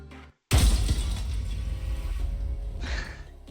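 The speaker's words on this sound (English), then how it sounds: "The freaking glass shattering noise was startling." A sudden loud crash of breaking glass in the video game Lobotomy Corporation bursts out after a brief silence, then rings and rattles down into a mechanical, creaky decay over a few seconds.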